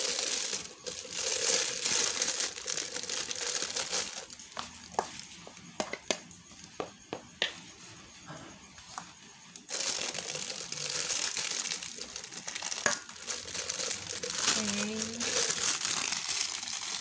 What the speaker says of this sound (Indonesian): Kita masukkan ke dalam plastik segitiga pemirsa ya.